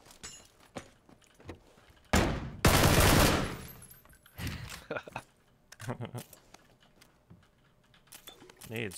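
Close gunfire in the battle royale shooter PUBG, with a long, loud burst of automatic fire followed by scattered shots and clatter while players talk over it.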